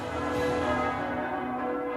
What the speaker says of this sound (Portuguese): E os sinos anunciam que a Igreja tem um novo líder.